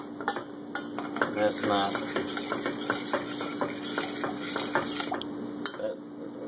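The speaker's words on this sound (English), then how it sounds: "just stir that up real good. Kind of scrape it down though" A spoon stirs and scrapes melted chocolate in a pan for a double chocolate fudge Coca-Cola cake, with repeated rhythmic metallic scraping clicks over a steady hum, and someone speaks briefly.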